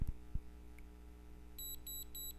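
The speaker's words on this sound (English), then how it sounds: "you're gonna hear a beep." A Nu Skin galvanic facial spa device gives three short, evenly spaced high-pitched beeps, quiet and close, after a couple of faint handling taps.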